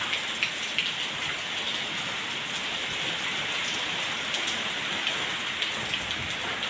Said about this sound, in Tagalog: Ayan, malakas yung ulan, malakas yung hangin.